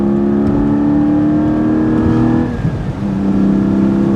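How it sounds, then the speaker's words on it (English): A Porsche 718 Spyder exhaust drones steadily from inside the car on a highway, a loud even engine tone with road noise that dips briefly and then returns. "it's the exhaust. It's just not loud enough, frankly."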